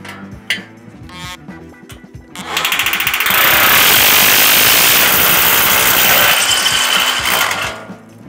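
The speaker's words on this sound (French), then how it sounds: "moi je perce directement le rail et je mets ma super cheville" A drill with an 8 mm bit bores into breeze block, a loud grinding roar running about five seconds between lighter clicks and handling knocks before and after.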